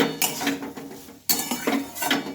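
A spoon clinks and scrapes against a bowl while leftover fried rice is mixed with lemon juice, in two bursts of rhythmic clattering strokes separated by a brief pause, close and fairly loud.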